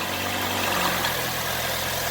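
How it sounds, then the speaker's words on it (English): A Saturn Vue engine idles after an oil change, a steady low hum with a faint mechanical drone, close by and unchanging, with no talking. "We'll fire her up and check for any leaks."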